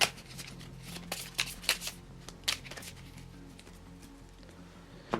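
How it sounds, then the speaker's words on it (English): A deck of Marvel Champions cards being shuffled by hand: several quick riffling bursts and soft slaps, close and fairly quiet, with a final riffle at the end. "We just quickly shuffle this up."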